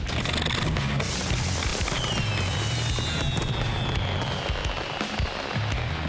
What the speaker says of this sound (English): Eric and Philippe are in the middle of a fireworks face-off across the pond.